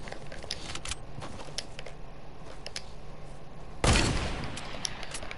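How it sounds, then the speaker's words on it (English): Video game gunshots, a run of sharp, crisp shots with a louder, heavier blast near the end that rings off slowly. "I'm just shooting above your head. I'm not shooting at you."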